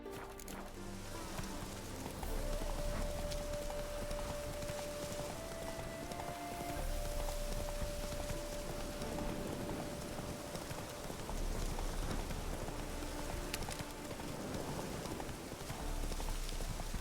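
A horse gallops in the rain in the Witcher video game, its hoofbeats a steady, continuous clatter under a wash of rain and ambient noise.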